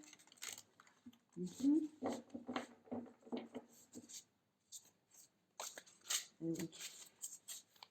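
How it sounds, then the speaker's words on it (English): Tarot cards are shuffled by hand up close, giving a busy run of crisp riffles, flicks and taps that pause briefly before starting up again. "Let's shuffle once more."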